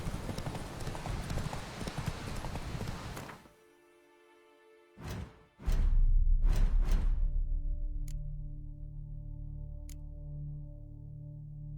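Hooves of Roach, a horse in The Witcher 3, clip-clop over a few seconds, with the steady gait cutting off and then a few loud isolated hoof strikes and a snort-like burst before a low fading rumble.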